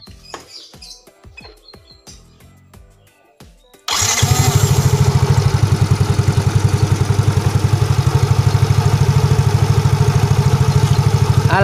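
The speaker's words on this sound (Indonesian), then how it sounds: "Ini starternya langsung bunyi" A Yamaha Mio GT scooter with a repaired starter dynamo cranks and fires up at once, settling into a loud, steady close-up idle, preceded by light tinkering clicks and birds chirping in the background.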